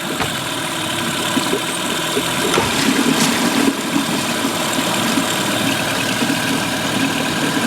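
A Mercury 8 hp outboard motor runs steadily in forward gear after carburetor cleaning, a constant close, loud engine drone with a brief louder swell midway.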